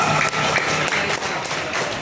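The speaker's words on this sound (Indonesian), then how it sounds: "sudah diberi tepuk tangan aplaus meriah buat Balajo Jawara" A crowd at an IKM community bazaar gathering in West Jakarta applauds for Balajo Jawara, with brisk, continuous clapping over two seconds.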